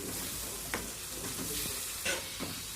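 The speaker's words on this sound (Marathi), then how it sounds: "मस्तपैकी याला आपण आता एक जीव करणार आहोत." Prawn and potato curry stirred in a pan over high heat, with a steady sizzle and a few scraping strokes of the spoon heard close up, no voices.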